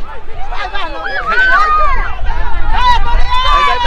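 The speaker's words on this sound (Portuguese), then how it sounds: "Volta e a torcida se anima" Fans at an amateur football match in a local championship, a lively babble of many voices shouting and chattering, loud and close, with individual calls rising above the crowd noise.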